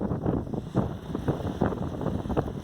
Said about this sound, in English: 5 to 10 mile an hour, good breeze, with gusts getting up to 15 miles an hour